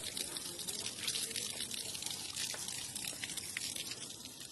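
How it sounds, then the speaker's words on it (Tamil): Spring water trickles down through rock crevices from a hilltop into a sacred temple pool, a steady, close, splashing and dripping flow that fills the scene without a break. "மலை உச்சியில இருந்து எந்த ஒரு பாதையும் இல்லாம இந்த மாதிரி பாறை இடுக்கு வழியா தான் இந்த தண்ணி இந்த தீர்த்தத்துக்கே வருது"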